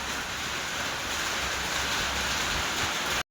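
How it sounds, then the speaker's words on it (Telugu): Heavy rain falls in a constant, loud wash of noise that stays even throughout and then cuts off abruptly. "ఇప్పుడైతే వర్షం పడుతుంది"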